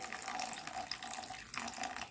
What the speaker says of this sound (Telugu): అలానే దీంట్లో కొన్ని వాటర్ యాడ్ చేసుకొని